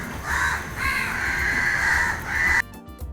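Several crows caw loudly and repeatedly in harsh overlapping calls close by, with a kitchen-side gathering of birds drawn in during Onam cooking; the calls end abruptly.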